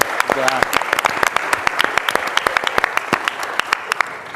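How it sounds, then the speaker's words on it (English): A meeting audience at the EMAR Super Meeting 2023 breaks into dense, lively applause, many hands clapping at once in a continuous rattling wash that stays strong throughout. "Give them a round of applause."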